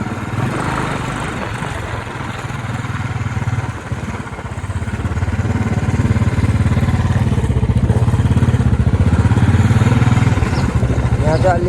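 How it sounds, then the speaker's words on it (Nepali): A Classic 350 motorcycle and a TVS Ntorq scooter ride through a narrow lane, with a steady, loud engine drone that grows louder after a short dip midway and keeps up a continuous mechanical clatter. "यहाँ चाहिँ अलि सानो आवाजमा जानुपर्छ यार, ठुलो आउँछ आवाज"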